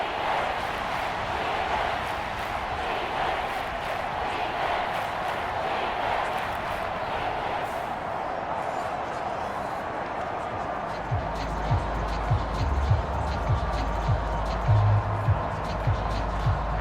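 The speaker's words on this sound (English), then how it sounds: "This red zone is where the Seahawk crowd really makes it tough for an offense to communicate." Steady stadium crowd roar in Seattle within a Madden NFL game of Giants versus Seahawks, a continuous broad wash of noise, with a voice speaking over it and thumping sounds entering near the end.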